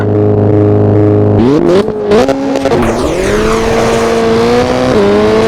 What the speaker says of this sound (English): Throttle up to around 110.